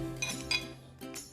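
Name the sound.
mixing guacamole with coriander in bowl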